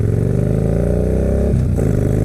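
A used Yamaha Bolt motorcycle fitted with a Python slip-on exhaust revs loudly up close, a deep throaty steady roar with a brief dip and surge near the end.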